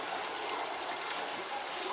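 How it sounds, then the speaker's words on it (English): Water flowing continuously through a small tube into a basement hydroponics system makes a steady, close trickling and gurgling wash with no breaks. "just the flow of water goes through this little tube here right down into the system, and it continuously flows 24 hours a day"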